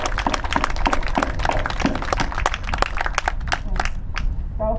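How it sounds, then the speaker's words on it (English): An audience at a school induction ceremony claps steadily and densely throughout, a sustained round of applause that tapers near the end. "one more round of applause for our students"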